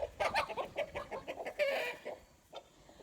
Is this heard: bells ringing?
no